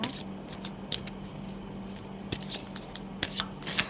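A deck of angel oracle cards is shuffled by hand, producing quick, crisp riffling bursts and soft slaps that come in irregular clusters, close and clear, with no talk.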